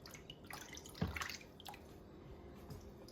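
Melted beeswax is poured from a cup for homemade candles, a soft liquid trickle and splash with one brief louder gush, faint against a low background hiss.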